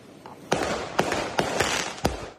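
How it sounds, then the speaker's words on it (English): Neighborhood fireworks go off at night in a series of four or five sharp booms, roughly evenly spaced, with a crackling rumble between blasts, heard from a distance. "Madison, this is where neighbors tell us those fireworks were getting launched from last night"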